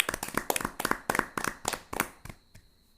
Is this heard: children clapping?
yes